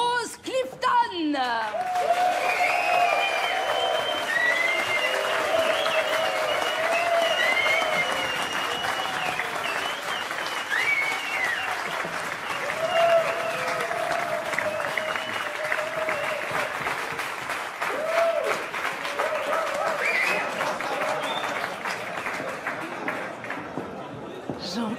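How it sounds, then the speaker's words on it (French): Audience applause fills a Western-style saloon for the new owner, a dense, steady clapping that holds loud for about twenty-five seconds, with scattered voices and whoops rising over it. "Je vous demande d'accueillir et d'applaudir très fort Rose Clifton."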